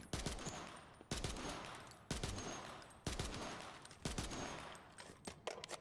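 Rapid gunfire from the aerial rebuild beam rifle in a shooter video game, fired in loud bursts about once per second, each a sharp crack fading into a rolling tail of echo and clatter.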